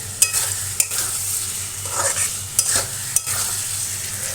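A Bengali curry of fried lentil fritters (dal bora) cooks in an oiled pan, giving a steady close sizzle broken by several sharp clicks of a spoon stirring against the pan, with a low hum beneath.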